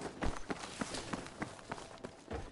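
Running footsteps in Battlefield V, a quick series of about eight evenly spaced, fairly close thuds on a hard surface, with no voices.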